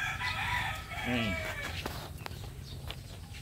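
A pure Gilmore Hatch gamefowl rooster from a game farm gives a single crow partway through, set against steady background farmyard noise.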